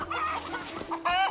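Chickens cluck nearby in a brief burst of short, throaty calls.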